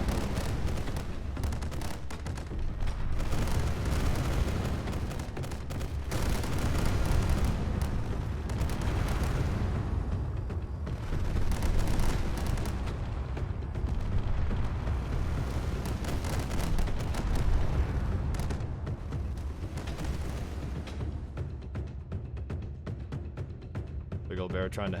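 Explosions and gunfire in a StarCore space battle game, a steady busy barrage of crackling shots and rumbling blasts running throughout, with a commentator's voice talking over it.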